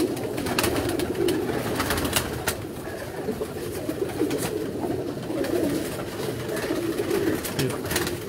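Breeding pigeons on a rooftop coo steadily in soft, overlapping throaty calls, with scattered clicks and wing rustles over a constant background.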